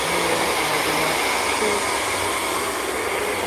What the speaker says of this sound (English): let me know if you can hear that once I put the blow dryer on